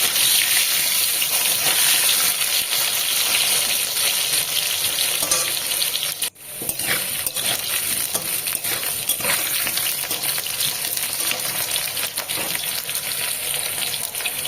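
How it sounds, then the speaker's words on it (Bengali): Potato pieces being stirred into a pan of frying pabda fish curry, with a steady, loud sizzle running the whole way through and one brief dip midway, heard up close with nobody talking. "তারপরে আলুটা দিয়ে একটু নেড়ে নেবো"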